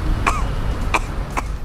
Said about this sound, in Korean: 공기 오염을 실시간으로 감지해서 오염도가 일정 수준 이상 높아지면 이렇게 기침을 해서 알려주는 로봇이에요.